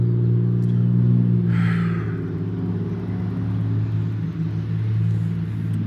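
Loud car mufflers passing outside, a steady low rumbling engine drone that holds throughout with a brief swell as a vehicle goes by.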